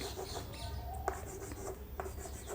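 Letters being written on a board, soft scratchy strokes in a quick uneven rhythm with a few sharper taps, faint and close.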